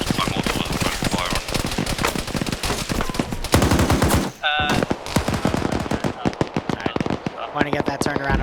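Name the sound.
gunfire from a video game military op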